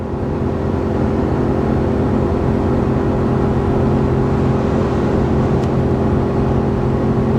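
A Ford F350 with a 7.3L gas V8 labors steadily while towing up a 6% grade in hot weather, its engine drone loud and constant throughout under cab and road noise.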